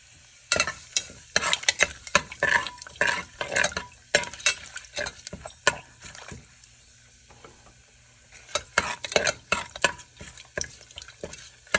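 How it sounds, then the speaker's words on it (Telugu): Cumin, cloves, cardamom, bay leaf and cinnamon fry in a cooker under a soft sizzle, broken by repeated scraping and clattering stirring strokes, with a short quieter pause midway. "జీరా, లవంగం, ఇలాచి, బిర్యానీ ఆకు, చెక్క ఇవి వేసుకొని ఫ్రై చేసుకోవాలి."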